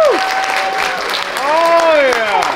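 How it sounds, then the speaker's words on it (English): Convention audience at a fan gathering clapping and whooping together, loud sustained applause with excited voices and cheers riding on top of the clapping. "And a big round of applause!"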